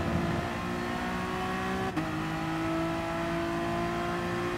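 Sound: Honda NSX race car sliding, from video game Gran Turismo Sport

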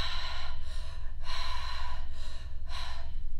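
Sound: deep conscious connected circular breathing

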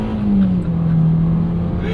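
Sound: 2022 Hyundai Venue engine revving while downshifting

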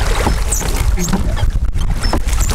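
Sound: rowing a boat with oars

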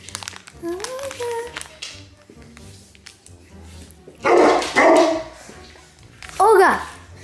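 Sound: dog barking

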